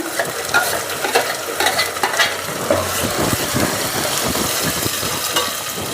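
Onion and spice paste frying in a pan while being stirred, with a steady close sizzle and repeated scraping strokes of a spoon throughout, with no talking.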